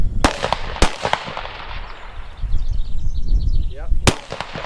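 Rifle shots fired while calling shots at a range, with three sharp, loud reports spread across a few seconds over steady outdoor background noise.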